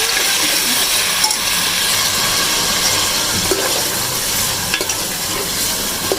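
Chicken fries and sizzles hard in a pot for chana dal gosht, a loud, steady, close hiss with occasional faint scrapes of stirring and no voices.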